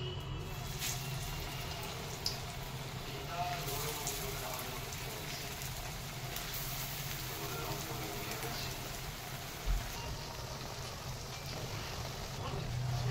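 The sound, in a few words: jackfruit koftas frying in hot oil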